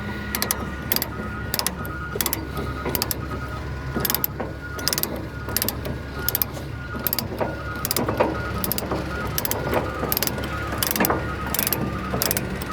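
A hand ratchet clicks in steady, evenly spaced bursts while tightening a threaded chain-locking mechanism on a trash truck, loud and close with mechanical rattling underneath.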